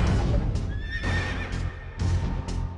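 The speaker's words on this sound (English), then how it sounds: "And I looked and beheld a pale horse" A horse neighs in a rising, quavering whinny with hooves clip-clopping, loud and close over a rumbling low background, then further snorts and stamps toward the end.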